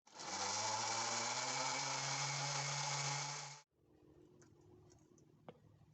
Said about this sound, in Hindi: ये स्ट्रॉबेरीज जो है इनकी सारी कैप्स ऊपर से उतार के तो हम इनको जग में डाल के तो अभी ब्लेंड करेंगे।